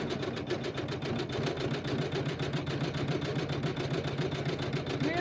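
Embroidery machine stitching an outline, a fast steady mechanical chatter of the needle repeating at an even rhythm, running continuously and moderately close.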